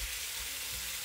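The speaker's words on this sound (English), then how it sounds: "that's more of the sizzle I was wanting" Venison sizzling as it fries in a pan, a steady broadband hiss of fairly high pitch that runs without pause through the whole short stretch, close and moderately loud.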